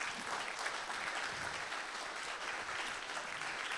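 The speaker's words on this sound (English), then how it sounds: "Let's give another round of applause to Simon Schama." An audience at an evening screening and talk on the Holocaust gives a round of applause for historian Simon Schama, a continuous, dense patter of many hands clapping at moderate volume without voices.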